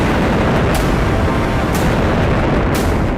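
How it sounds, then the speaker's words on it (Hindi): Explosions over Bushehr, Iran, at midnight: three sharp blasts land about a second apart over a constant, loud, roaring rumble. "ईरान में लगातार छठे दिन धमाके हुए।"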